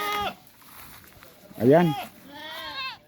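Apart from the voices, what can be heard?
goat bleating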